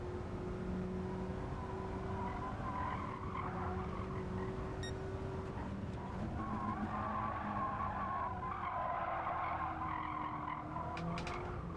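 A Suzuki race car in Gran Turismo 7 skids and squeals its tires under a steady engine drone, the sustained screech running continuously at moderate level with no talking.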